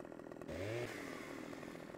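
A chainsaw in the farming game Farming Simulator 15 revs up into a loud, steady buzzing whine, briefly rising in pitch as it bites into a tree before settling to a constant drone.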